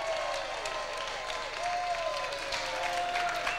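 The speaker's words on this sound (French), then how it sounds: "Je vous demande de l'applaudir." An audience applauds a magician on a French television show, a steady, moderately distant clapping that runs throughout with faint tonal sounds and some crowd noise mixed in.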